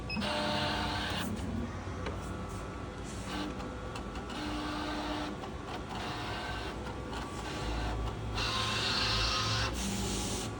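A Graphtech plotter whirs and clicks as it feeds paper through its pinch rollers to find the front edge, a close mechanical run of motor hum and stepping noises with short pauses and no talking.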